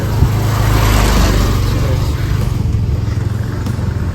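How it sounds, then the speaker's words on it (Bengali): Engines roar loudly and close by as motorcycles pass on a road at Parasnath Hills, Jharkhand, a continuous rumbling drone that swells early and then eases slightly. "এই রাস্তা দিয়েই এইরকম টাইপের বাইকগুলো যাচ্ছে"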